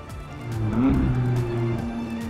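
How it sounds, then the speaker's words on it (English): McLaren 570GT sports car exhaust giving a low, rumbling burble, steady engine tone with a slight rise in pitch midway, heard close and fairly loud. "And the muffler exhaust sound still allows for a comfortable sports car burble."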